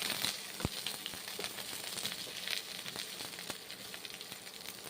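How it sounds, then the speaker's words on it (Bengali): Brinjal (eggplant) slices frying in mustard oil, a soft steady crackling sizzle with scattered pops and faint clinks, no voices. "তারপর বেগুনগুলো তেল দিয়ে ভেজে নিচ্ছি সর্ষের তেল দিয়ে বেগুনগুলো ভেজে নিতে হবে"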